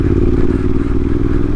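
A Yamaha T7 adventure motorcycle fitted with a full Black Widow exhaust system runs steadily up close, a loud, continuous low engine rumble with a slight mechanical clatter and no talking.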